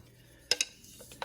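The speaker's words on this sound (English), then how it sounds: "I'm gonna give it a stir." A spoon stirs a full crock pot of comfort food with a couple of sharp close clinks against the pot, followed by softer scraping taps in a brief burst.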